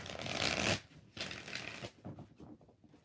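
Tarot cards are shuffled in three quick bursts, a close, crisp riffling and flapping with short pauses between, with no voices.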